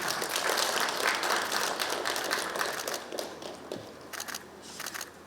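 Audience applause at an MOU signing ceremony during a Kenyan state visit, a loud sustained round of clapping from a large crowd that gradually thins out into scattered claps.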